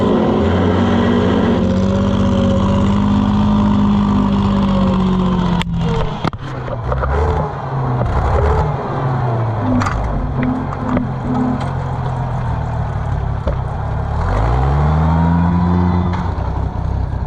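A late-style Oliver 770 tractor engine with fuel system trouble runs with a loud, low rumble, dies away, then catches and revs again with rising and falling pitch, close and steady throughout.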